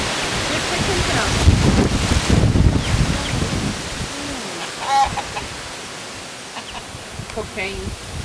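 A chicken clucks outdoors near a pen on a windy day, with a few short calls standing out over steady wind noise and faint background voices.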